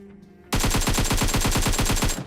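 Automatic gunfire in the mobile game PUBG Mobile: a loud, fast, evenly spaced burst of about twenty shots that cuts in abruptly and runs nearly two seconds before stopping.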